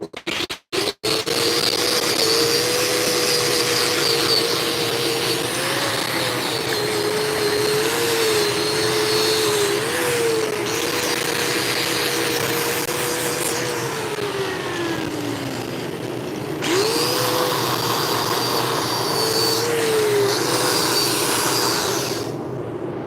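Steady, loud whine of a grinder buffing off a weld cap after welding, running continuously with shifting pitch as the tool loads and eases, briefly dipping near the end before resuming.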